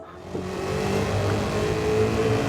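A race car engine in a driving video game holds a steady, mid-pitched drone under gentle throttle through a late-apex corner, droning continuously and fairly loud with no talk.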